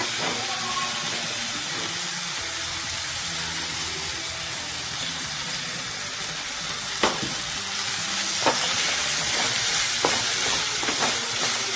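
Chopped tomato sizzles and fries steadily in a hot pan, a continuous close hiss with a few sharp clinks of stirring near the end, no voices.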